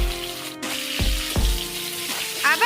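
Potatoes and tomatoes fry in a pan with a continuous sizzle, broken by a few distinct knocks and scrapes of a spoon over a short stretch; no speech.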